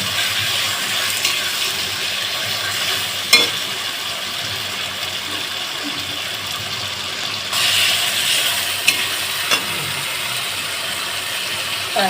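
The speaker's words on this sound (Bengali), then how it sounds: "ভালোভাবে আবার একটু কষাতে থাকবো" Mutton masala with vegetables sautéing in oil in a pan, a steady broadband sizzle throughout with occasional sharp scraping clicks of a spatula stirring, close and continuous, no talking.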